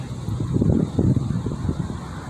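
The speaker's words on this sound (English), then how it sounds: "Those are the trees blowing in the wind." Trees are blowing in the wind outdoors, heard as low, rumbling gusts that rise and fall briefly and close to the microphone.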